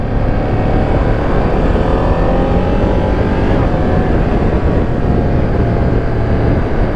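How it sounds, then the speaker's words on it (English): A Ducati Panigale V2S motorcycle pulling away, its engine a loud constant drone that rises slightly in pitch under heavy wind rush close to the rider. "So pulling away, the bike feels really nice."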